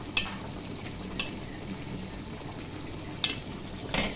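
Vegetables, onion and tomato frying in a pan, a soft steady sizzle at moderate distance punctuated by four brief clinks or scrapes.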